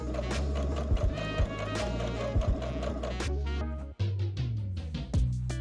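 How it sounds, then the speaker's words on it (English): Sewing machine stitching the armhole seams of a tie-front vest, a fast even mechanical whir close up, briefly stopping and restarting near the end. "Sew the armholes together all along the edge with your needle in the far right position."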